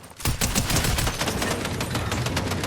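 Rapid, dense bursts of gunfire crackle continuously at close range, a sustained barrage with no pauses, like an intense firefight in a video game.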